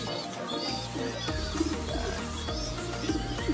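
Pigeons pairing up in a loft, soft repeated cooing calls close by over a steady low hum and faint background chatter of birds, with no one talking.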